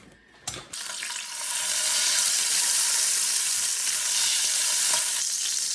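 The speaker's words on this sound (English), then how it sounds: "I'm going to throw in a pretty good sized chunk, probably about 3 tablespoons of lard into the skillet." About three tablespoons of lard hitting a hot electric skillet: after a brief clunk, a loud, dense sizzle rises and holds steady, close up, with no talking.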